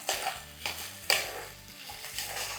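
Dal frying in oil with turmeric in a pan for cucumber dal, stirred with several soft scraping strokes over a quiet, steady sizzle, no talking.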